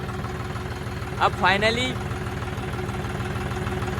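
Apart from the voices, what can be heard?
tractor engine running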